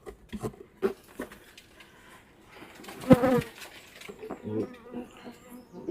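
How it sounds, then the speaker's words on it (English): A large swarm of honey bees buzzes outdoors during a hive inspection, a fluctuating hum with a few louder passes of bees near the microphone and faint voices at moments. "I don't know if these are mine or Henk's or just a random swarm"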